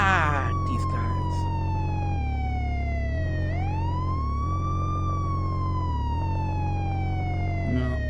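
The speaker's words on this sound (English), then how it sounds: "don't you guys see the ambulance in the intersection with the red and blue lights and the siren?" An ambulance siren in a VR video game wails through slow rising and falling sweeps over a steady low engine hum, loud and continuous, with faint talk in the background.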